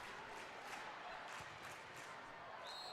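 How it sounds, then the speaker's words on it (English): Indoor arena soccer crowd at a Utica City FC versus Milwaukee Wave match, a faint, steady wash of distant cheering and clapping that never swells into a clear peak. "Crowd gets into it, 20 seconds left in the first."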